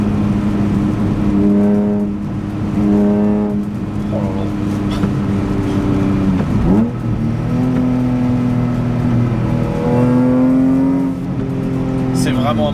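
The BMW M3 E46 Touring's engine revs repeatedly, its pitch climbing and falling in loud, close surges, with a brief voice exclaiming over it.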